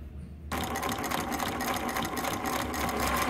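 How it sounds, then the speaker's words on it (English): A New Tech GC-20U93D zig-zag lockstitch direct-drive sewing machine starts up after a brief quiet moment and then runs steadily, producing a continuous, even whirring and stitching hum that stays close and constant to the end. "Very quiet, you see that? And we're sewing."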